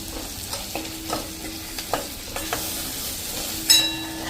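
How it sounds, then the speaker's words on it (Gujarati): Gram flour (besan) being stirred with spices in hot oil, a steady run of scraping spoon strokes over a continuous sizzle, ending in a sharper clink against the pan. "એકાદ મિનિટ આ રીતે આપણે હલાવશું"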